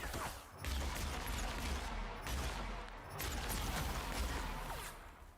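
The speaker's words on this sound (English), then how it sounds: "Who's shooting now?" Gunfire in the video game The Outer Worlds, a steady noisy barrage of shots and impacts filling the whole stretch with brief lulls, loud and continuous under the game's ambience.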